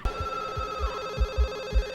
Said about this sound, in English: Look at that cordless phone.